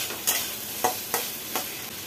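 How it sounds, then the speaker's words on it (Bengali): Onion, cashews and garlic fry together in a pan, a soft constant sizzle broken by four sharp scrapes of a spatula stirring. Close, with no voices. "এর সাথে দেব বেশ কয়েকটা কাজু বাদাম এবং রসুনগুলো দিয়ে আরও ভালো করে ভাজতে থাকবো যতক্ষণ না পর্যন্ত পেঁয়াজটা পুরোটা ট্রান্সপারেন্ট হয়ে আসছে"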